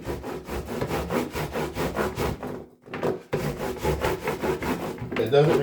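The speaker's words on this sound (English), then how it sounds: "Just rub your paracord stuff on top of that soap a little bit, and then just scrub it down." Paracord being rubbed and scrubbed against a bar of soap in water gives a steady, rhythmic rasping scrub with many even strokes, close and fairly loud, pausing briefly midway.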